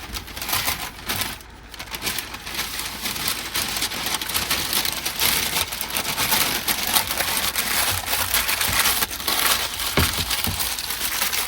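Parchment paper crinkles and rustles as bread is wrapped and put away at a campsite, a busy, close crackling that runs almost without pause, with a brief lull early on and no voices.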